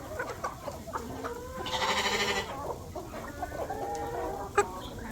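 Chickens cluck and chirp close by in a farmyard, with a louder goat-like bleat in the middle and a sharp squawk near the end, under soft ambient noise.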